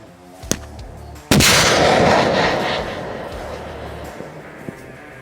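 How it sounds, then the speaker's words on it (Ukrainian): A loud, sharp blast as a rocket launcher fires cumulative or high-explosive fragmentation rockets, followed by a long roaring rush that slowly fades, with a fainter crack just before it. "Це зараз стоїть апарат 100 стріляє ракетами кумулятивними і осколочно-фугасними."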